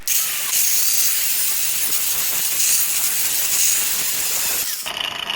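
Corded power grinder cutting 1x1 16-gauge steel tubing in a welding shop, a steady loud high-pitched hiss and whine running continuously for about five seconds before cutting off abruptly.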